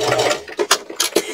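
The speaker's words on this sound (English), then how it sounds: "now I want to sew along these two edges using a 1/4 inch seam allowance." A sewing machine stitches a 1/4 inch seam along two edges of a purse through many layers of fabric, giving a short run of close mechanical clicks and bursts, loud and near, with no talking.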